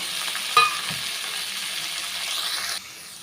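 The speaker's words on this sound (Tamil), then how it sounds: "பாருங்கள் கொத்தமல்லியும் கருவேப்பிலையும் நல்லா வதங்கிருச்சு" Coriander leaves and curry leaves frying in a pan, a steady bright sizzle with one brief scrape of stirring near the start, close and fairly loud, fading down slightly at the end.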